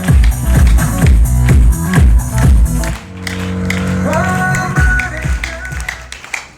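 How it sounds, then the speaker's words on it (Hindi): Seminar audience clapping in rhythmic unison, loud regular beats for a few seconds, then a tonal musical or vocal passage, followed by scattered clapping again. "तालियां तालियां बजाइए बजाइए बजाइए"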